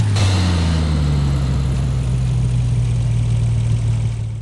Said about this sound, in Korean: 여러분들 엔진 소리 들어볼게요. 먼저 기본.